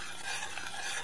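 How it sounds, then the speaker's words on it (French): Pepper, salt and oregano are stirred into a mixture for an Algerian square pizza, making a faint, continuous scraping and rubbing sound close by with no talk. "Je mélange."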